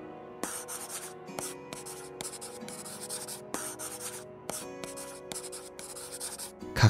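A pencil writes the kanji 拡 on a paper worksheet: close, scratchy strokes in short bursts separated by brief pauses, steady and fairly quiet throughout.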